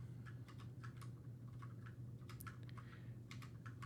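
Computer keyboard keys clacking in quick, irregular bursts of typing while someone codes a programming exercise, the keystrokes crisp and close over a steady low electrical hum, no voices.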